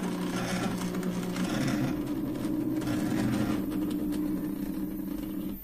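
A 3D printer's moving head accelerating into a curve, steady whirring motor drone with stepper hum and shifting tones, continuous and close, no talking.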